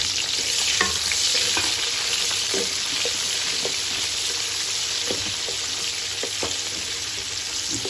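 Onions sautéing in hot ghee in a pan for an arvi gosht curry, a loud close sizzle running throughout, broken by repeated soft stirring clacks and scrapes.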